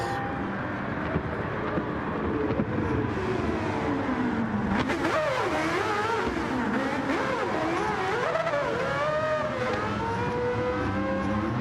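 Several Group C race cars roar around Monza on the final lap in Gran Turismo 7, engines revving and shifting continuously with pitch sweeps as cars pass, loud and steady throughout without talk.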